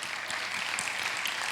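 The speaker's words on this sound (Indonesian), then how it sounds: "Kasih tepuk tangan buat Tuhan Yesus" A church congregation applauding for Jesus during a sermon, a dense wash of many hands clapping at once that stays full and steady over a short burst, with no talking.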